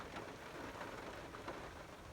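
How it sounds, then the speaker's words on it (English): Rain falls outside near a barn, blowing in from the south, a soft steady hiss of drops with no voices, faint throughout. "the rain's blowing in from the south"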